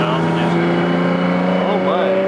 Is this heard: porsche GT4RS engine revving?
yes